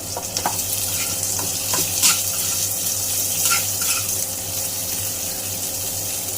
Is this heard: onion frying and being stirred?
yes